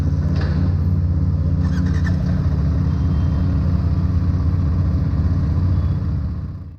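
A BSA Gold Star 650 motorcycle idles steadily just after a cold start, giving a close, even, low rumble that holds throughout and cuts off at the very end.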